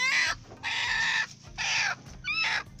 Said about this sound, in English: There's a chicken here incubating.